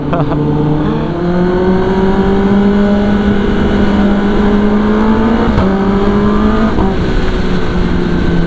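A Kawasaki ZX-10R motorcycle with an aftermarket exhaust drones steadily close by, its deep exhaust note rising and holding with brief revs, no talking.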